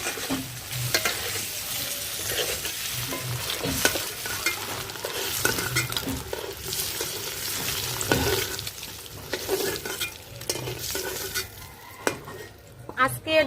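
Eggs frying in oil in a kadai for egg biryani, a continuous sizzle with frequent scraping and stirring clatter from a utensil against the pan, close and fairly loud throughout.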